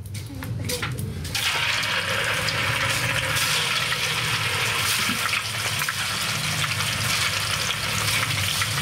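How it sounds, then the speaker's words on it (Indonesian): Tofu sizzles and crackles in hot oil in a pan, a loud, steady fry that fills the whole stretch after a brief softer opening, while background voices are faintly audible. "Mama goreng ini tahu"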